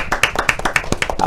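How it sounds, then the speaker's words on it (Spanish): Brief burst of audience clapping for a guest on an interview show, a few quick sharp claps over about a second, fairly loud and close, with some voice mixed in. "Vamos a darle un aplauso."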